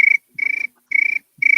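A person imitates a cricket with four evenly spaced, shrill chirping bursts, loud and close, in a repeating rhythm with short gaps of silence between them.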